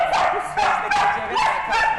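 During canine agility training, a two-year-old dog barks close by in a few sharp, yappy bursts in quick succession.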